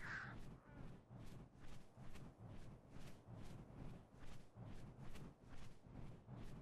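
A swarm of vultures in the video game Ark: Survival Evolved gives harsh, rasping caws in a steady repeating rhythm, several calls overlapping at moderate loudness.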